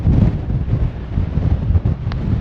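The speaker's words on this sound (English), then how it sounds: "Now it's quite windy" Heavy wind buffets the microphone on an exposed cliff-top walk along the East Cork coast at Ballycotton, a loud continuous low rumble with gusty surges and no voices.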